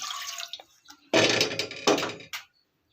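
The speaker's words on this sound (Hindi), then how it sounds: "पान में हम पानी डाल लेते हैं।" Water poured into a pan on the stove while making tea, two broad splashing bursts of pouring, close and fairly loud, with a few drips and quiet clinks around them and no talking.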